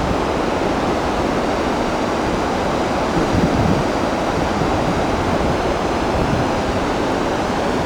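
Water roars steadily through the open floodgates of Hawks Nest Dam, a dense, continuous rushing torrent that stays loud and unbroken throughout, with no voices over it.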